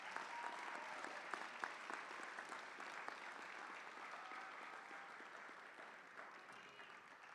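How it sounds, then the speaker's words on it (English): Sustained audience applause at a high school National Honor Society induction ceremony, steady dense clapping from a large crowd that holds evenly for about seven seconds. "Can we please give our new inductees a round of applause for their accomplishments?"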